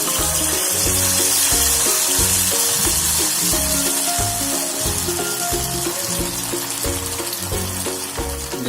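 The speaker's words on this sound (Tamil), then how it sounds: "ஒரு எண்ணெயை நல்லா சுட வச்சு அதில் ஒரு கரண்டி எடுத்து நல்லா ஊற்றி" Vellai paniyaram batter ladled into hot oil in a Karaikudi-style kitchen, frying with a steady, dense sizzle and bubbling that runs loud and close throughout, with occasional soft clinks of a ladle.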